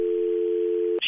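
A steady telephone dial tone hums after an international call is disconnected, a single continuous close tone that cuts off abruptly near the end with a brief click.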